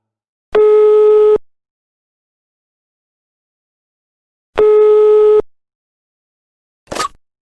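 Telephone line tone heard while a call connects on a radio show: two identical long, loud steady tones separated by several seconds of silence, then a short click-like burst at the end.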